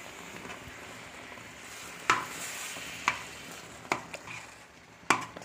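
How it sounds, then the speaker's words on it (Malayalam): Jackfruit halwa, made with coconut milk and dark jaggery, is stirred in a pan. A low sizzle and hiss lie underneath, and a few distinct spoon knocks and scrapes ring out roughly once a second. "ഇപ്പോൾ ഞാൻ തേങ്ങാപ്പാൽ ഒഴിച്ചു കൊടുക്കുകയാണ് ഇനി നമുക്കിത് നന്നായിട്ടൊന്ന് ഇളക്കി കൊടുക്കാം"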